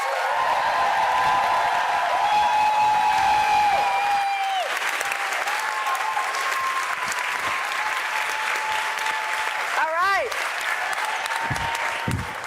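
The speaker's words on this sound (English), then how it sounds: "Please give a round of applause for our special guest, Julia Louis-Dreyfus." A large audience at a 2024 Democratic National Convention panel event greets a special guest with sustained, loud applause, while an amplified voice speaks over the clapping.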